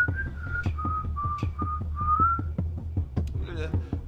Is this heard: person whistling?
yes